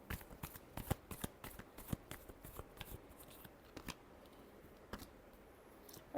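Tarot cards riffle and shuffle in a rapid, uneven flurry of close, crisp slaps and flutters, steady throughout with no voice.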